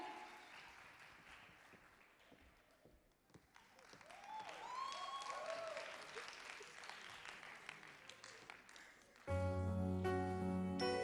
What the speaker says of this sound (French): Je vous prie d'applaudir si fort,